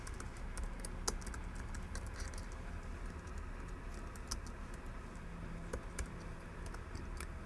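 Rapid, uneven clicking of keys as a sudo password is typed on a computer keyboard, close and steady throughout, with no talking.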